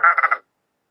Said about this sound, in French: Non, c'est le bruit de canard, ouais.